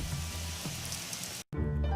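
Steady rain falls in a dense, even hiss with a low rumble beneath. Near the end it breaks off briefly into silence, then resumes with a deeper hum.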